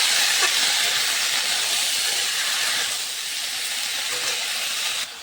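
Food frying in oil in a pan with salt and turmeric added, a steady loud hiss of sizzling throughout that eases slightly in volume partway, with no talking.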